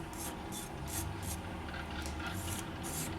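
Polymer clay being grated on a metal grater, a quiet rhythmic series of rasping scrapes, about eight strokes in a steady back-and-forth pattern over a low background hum.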